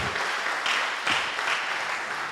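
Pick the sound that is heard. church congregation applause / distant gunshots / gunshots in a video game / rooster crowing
church congregation applause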